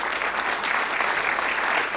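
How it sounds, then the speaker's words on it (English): A seminar audience applauds a panel: a dense, even burst of clapping from many hands, close and steady for the whole moment. "Please, a round of applause for our panel."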